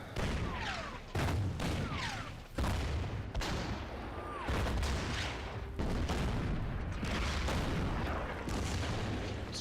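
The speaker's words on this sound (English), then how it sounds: "So much artillery." Artillery in the World War II strategy game Order of Battle fires in repeated heavy booms and crackling bursts, loud and close, arriving in clustered volleys with brief gaps between them.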